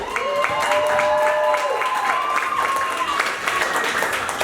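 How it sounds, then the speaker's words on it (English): Audience applause at a New York Fashion Week runway show in February 2020, steady clapping filling the room for several seconds with a voice speaking over it. "Give a round of applause to Dara V."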